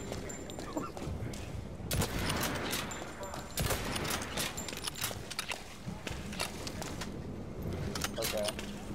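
Gunfire from a red gun shooting green bullets in the shooter game Blacklight Retribution, dense bursts of shots continuing through the whole stretch beneath steady talking.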